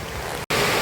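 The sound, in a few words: heavy rain in Kanyakumari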